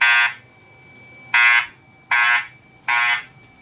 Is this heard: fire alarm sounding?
yes